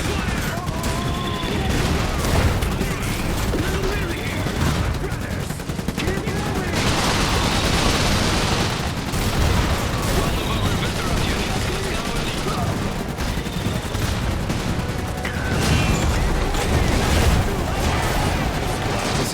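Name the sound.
suppressive gunfire from the video game Iron Harvest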